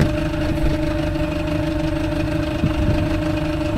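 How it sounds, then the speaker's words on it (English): A fishing boat's outboard motor runs at a steady speed close by, a constant droning hum with a low rumble and no breaks or talking. "I know what speed now just by the sound of the motor."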